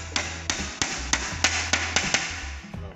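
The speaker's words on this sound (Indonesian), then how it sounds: "Kita coba lagi palu." A hammer taps nails into a rabbit cage floor, about ten sharp, evenly spaced knocks close by at a steady rhythm, each with a short metallic ring.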